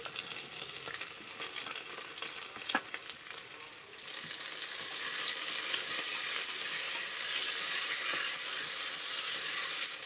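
Tomato and carrot fry in a steel pot for veg biryani, a steady broadband sizzle that swells louder and denser after a few seconds, with a sharp clink near the start and no voices.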